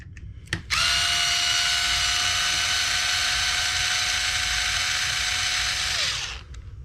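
A power driver spins for about five seconds while backing out 2mm screws from the front bumper of a Traxxas 4-Tec 3.0 RC car. The whine is loud and close, with a brief click just before it starts.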